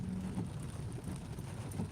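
Steady rain hisses continuously on a street in Pateros, a dense wash of drops with a low rumble underneath, no voices.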